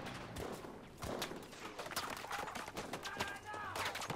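Battlefield V gunfire crackles in quick, sharp bursts and scattered single shots amid battlefield noise, fairly close, with a voice talking over parts of it.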